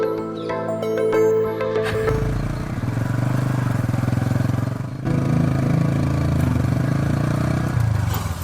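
A motorcycle engine idles and revs close by, a steady mid-pitched throb with a brief dip partway through, and a short bit of speech at the very start.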